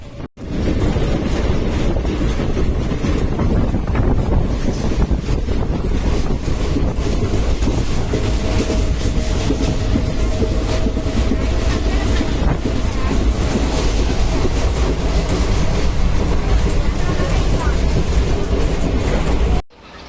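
Steady, loud rumble of the Tirunelveli to Purulia SF Express passenger train running on rails between Tiruvannamalai and Chennai Perambur, with continuous clatter and wind rush from start to finish and no talking.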